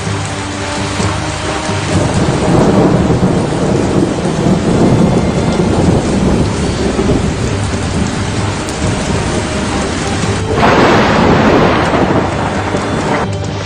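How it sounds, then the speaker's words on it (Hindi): Heavy rain pours steadily during a thunderstorm in Delhi, a dense roaring wash close by, with deep rumbles of thunder rolling underneath and a fresh surge in intensity late on. "फिर आंधी आई और फिर तेज बारिश।"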